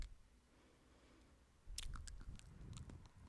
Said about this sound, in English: I think I'm chewing on sand.